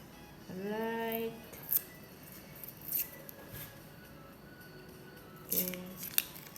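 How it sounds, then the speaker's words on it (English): Crayon casing being opened by hand: a short squeaky, rising scrape followed by several scattered crisp clicks and snips of the wrapper, close and moderately loud in a quiet room. "let me open the casing for this crayon first."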